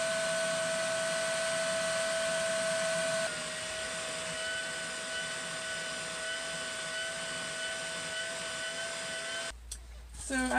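A vacuum cleaner picks up styrofoam debris, running loud and close with a steady whining drone, its pitch dropping slightly partway through before a brief clatter at the end.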